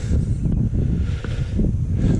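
Low, rumbling wind buffets the microphone in continuous gusts, a muffled roar with no clear voice.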